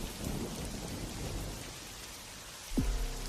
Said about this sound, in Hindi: तभी तेज तूफान आया और तेज बारिश शुरू हो गई